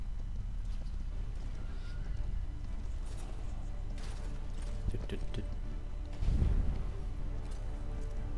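Horse galloping in the video game Paladins, a steady clip-clop of hooves running throughout with game ambience, a louder burst near the end, and a person talking over it.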